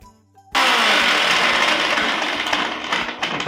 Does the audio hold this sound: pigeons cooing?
no